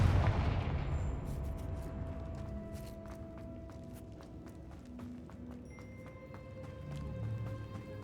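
Confringo fire spell in Hogwarts Legacy: a heavy low blast opens and rumbles away, followed by scattered sharp clicks and crackles over a faint sustained tone, with no voices.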